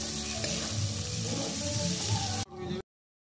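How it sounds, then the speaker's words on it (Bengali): Onions fry with a pinch of salt in a pan, a short close sizzle with light metallic clinks of stirring that cuts off abruptly after a few seconds. "লবণটা দিলে পেঁয়াজটা ভাজা ভালো হবে"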